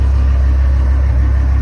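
A repaired vehicle engine, fixed with a drilled-out stud replaced by threaded rod, runs with a loud, steady, close low hum and no talk.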